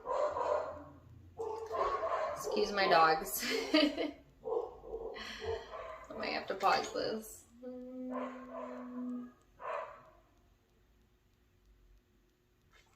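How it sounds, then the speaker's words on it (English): Dogs bark and yip indoors in several short bursts, mixed in with a person talking nearby. "Excuse my dogs."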